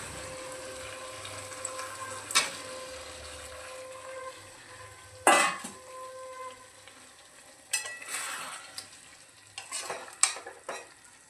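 Steamed, drained jackfruit tossed into a hot pan of oil and spices with slit green chillies for a Bengali jackfruit-prawn curry: a steady low sizzle broken by several sharp spatula scrapes and clatters against the pan.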